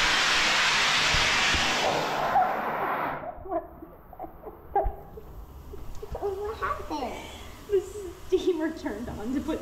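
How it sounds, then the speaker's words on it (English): A steam room generator releases a loud, broad hiss of steam that fades out after a few seconds, followed by people talking in the room. "Turned on to put steam in the room."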